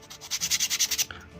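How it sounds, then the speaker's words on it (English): A plastic miniature base is scraped to roughen its top, producing about ten quick rhythmic scratching strokes close up, followed by a brief pause and a softer rub. "just burr the top of the base to give it something to track onto"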